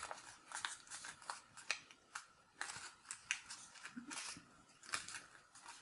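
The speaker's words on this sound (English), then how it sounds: "I want you to mountain fold the next crease" Thin origami paper being mountain folded along a crease: crisp, close crackles and quick rustles in irregular bursts, with light scraping between them and no talk.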